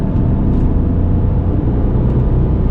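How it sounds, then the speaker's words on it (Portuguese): A Peugeot 208 with the 1.2 PureTech engine roars loudly and steadily under hard acceleration from inside the car, a dense continuous engine drone with no voices. "Ó o ronco de novo, ó."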